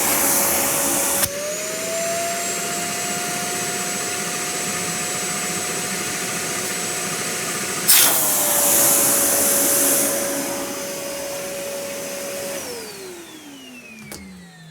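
A Vacmaster Beast 5-gallon shop vacuum runs loud and steady on hose suction, starting abruptly with a sharp rising whine, holding a sustained roar, shifting pitch as the hose is blocked or opened, then spinning down.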